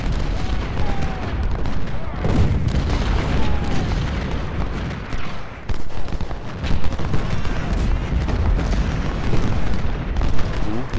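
Dense, continuous battle din of cannon booms and rattling musket fire from the Civil War strategy game Ultimate General: Civil War, loud and sustained with overlapping blasts throughout.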